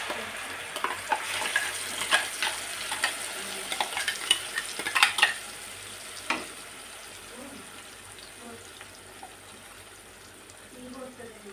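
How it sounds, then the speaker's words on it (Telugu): A spoon stirs a ground onion-tomato chutney into hot tempering oil, with a soft continuous sizzle and scattered scraping clicks that are busier at first and quieter later, and faint talk in the background. "పచ్చడి వేసుకున్న తర్వాత ఒకసారి మంచిగా కలబెట్టుకోవాలి"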